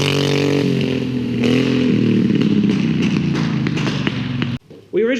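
A custom V-twin go-kart engine with a modified header and intake roars loudly and close by, holding a steady rough drone with rattling and clatter before it abruptly cuts out, after which a voice briefly speaks.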